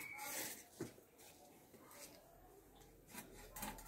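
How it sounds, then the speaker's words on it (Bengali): A fish rubbed with ash is scaled and cut in a home kitchen, with faint gritty rubbing and scraping strokes coming in irregular bursts at low level. "ছাই মাখিয়ে কাটছি"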